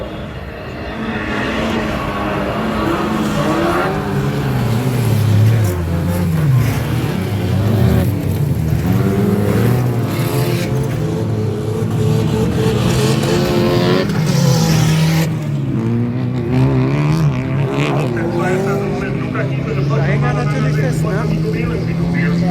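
Autocross race cars, including a fast Honda Civic in a youth class event at Eppe, Germany, drive continuously with engine drone throughout, mixed with a commentator speaking over the noise.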